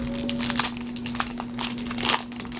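A knife slicing open the wrapper of a 2014-15 SP Authentic hockey card pack, giving close, crinkly crackles and short tearing bursts over a steady low hum.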